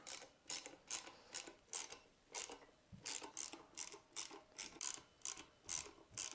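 A hand ratchet tightens the bolts on a Honda XR650L dual-sport motorcycle wheel, producing repeated short bursts of close ratcheting clicks in a steady rhythm, with brief pauses between strokes.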